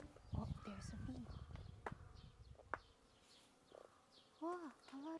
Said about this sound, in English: Wow, a lot of bees here.